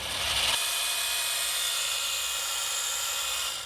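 A pole chainsaw runs with a loud, steady high-pitched buzzing whine close by while its chain oil feed is checked; no talk.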